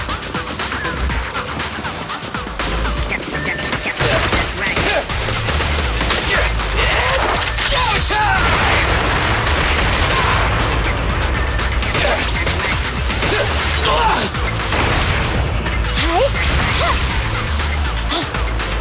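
Dense, continuous gunfire and impact crashes from the action video game Zenless Zone Zero, loud and sustained throughout with whooshes and smashes layered in and brief voice bits.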